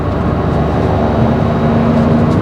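A 2024 Kia Picanto 1.0-litre petrol engine drones loudly and steadily, its pitch creeping slightly higher as the revs build.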